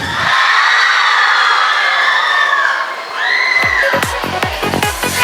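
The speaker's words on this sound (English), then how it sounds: "Let's give them a huge round of applause for their wonderful effort." A school feast crowd at St Lawrence English Medium School erupts in loud, sustained cheering and shouting from many children, then breaks into scattered sharp claps and whoops toward the end.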